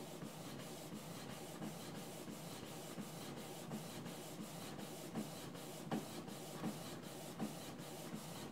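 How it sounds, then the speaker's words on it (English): A Canon PIXMA TS6220 inkjet printer prints a photo, giving off quiet, evenly spaced mechanical ticks over a soft rubbing whir of the print head passing back and forth. "I just now hit print, and it's printing, it's sending"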